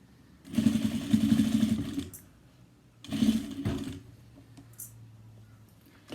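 A sewing machine stitches a bag in two bursts of rapid, close mechanical whirring, the first about one and a half seconds long and the second shorter, with quiet pauses and faint handling noises between them.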